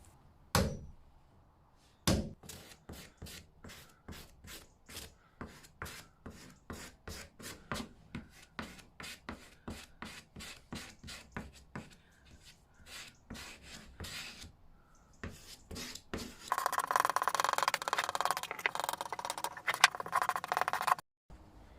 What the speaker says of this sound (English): I'm just tapping them down with a hammer and just using the hole punch